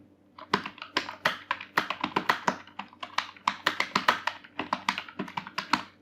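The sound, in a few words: typing on a computer keyboard in Microsoft Word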